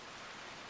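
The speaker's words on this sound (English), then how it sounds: "This rain is pretty heavy." Heavy rain in the video game Left 4 Dead 2 pours as a dense, steady hiss of broadband noise, with no breaks across the brief moment.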